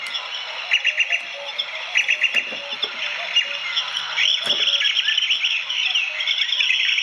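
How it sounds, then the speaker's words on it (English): A circuit-bent electronic toy gives off bursts of synthetic bird chirps and tweets, repeated in quick clusters over a steady high electronic whine, fairly close and with no talk. "I like the birds without the water."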